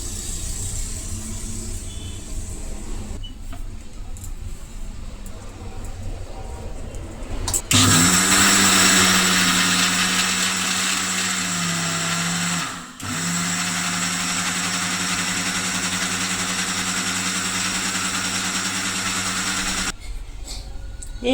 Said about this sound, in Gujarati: તો હવે આ સાંભાને આપણે મિક્સર જારમાં પીસવાનો છે.